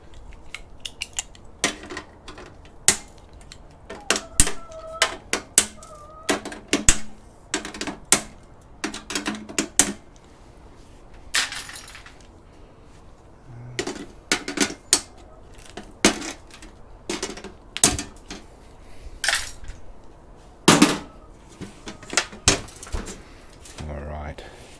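Repeated sharp metallic snips and clacks as screws are chopped off scrapped e-waste, coming in irregular bursts up close with a voice talking now and then.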